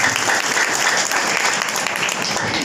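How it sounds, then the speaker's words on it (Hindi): Audience at a Brahma Kumaris self-empowerment gathering breaks into loud, dense applause that holds steady and close for the whole stretch, with no speech over it. "जो वायदा करते हैं अपने लिए ताली बजाएं, जोरदार ताली, अपने लिए कंजूसी नहीं।"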